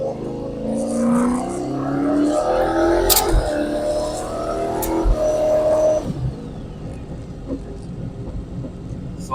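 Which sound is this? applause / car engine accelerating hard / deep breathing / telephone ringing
car engine accelerating hard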